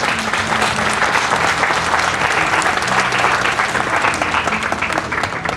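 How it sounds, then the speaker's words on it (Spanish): A crowd of parents at a school conference claps loudly and steadily, dense continuous applause filling the whole stretch without a break. "Vamos a recibirlos con un fuerte aplauso para que se animen."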